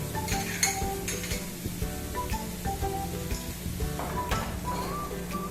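Two tablespoons of butter sizzle and melt in a pan for a beef stroganoff roux, a steady close hiss broken by clinking utensils and a scraping pan, with a low background hum.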